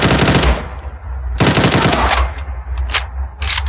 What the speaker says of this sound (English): that's another fully automatic weapon